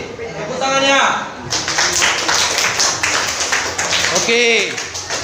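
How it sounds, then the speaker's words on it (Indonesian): Students in a classroom clap together, a rapid, fairly loud patter of hands that starts after a moment of talk and continues under a teacher's voice. "Tepuk tangannya."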